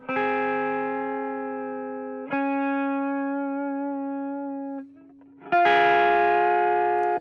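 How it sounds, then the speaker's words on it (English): Guitar chords run through a heavy distortion plugin modeled on a Boss distortion pedal, three long sustained, buzzy chords with a brief drop in level before the last, loud and alone. "There's also a heavier one, which is more of like a distortion. Think like Boss distortion pedal."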